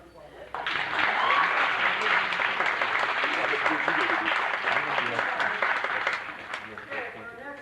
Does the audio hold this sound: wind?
no